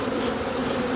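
Honey bees drone in a steady, dense buzz around an open beehive, close and continuous with no voices.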